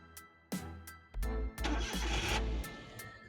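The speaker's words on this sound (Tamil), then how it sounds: "வண்டி ஸ்டார்டிங் சவுண்டு மட்டும்தாங்க" A used Maruti Suzuki Alto 800 car cranks with a few starter bursts, then its engine catches and runs, a close, moderately quiet sound with no talking.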